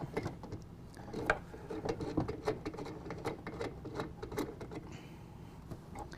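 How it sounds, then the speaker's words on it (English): Soft ratcheting clicks and small metallic taps come from loosening a nut and unthreading a bolt on a RetraxPRO XR tonneau cover clamp, quiet and close, with uneven pauses between turns. "loosen up the nut on the back and then unthread this bolt"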